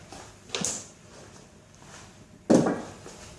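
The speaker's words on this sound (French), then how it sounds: "Je vais même prendre une chaise." A chair being picked up and set down during a squat demonstration, heard as two close, sharp knocking thuds about two seconds apart, the second louder and fuller, with quiet room tone between them.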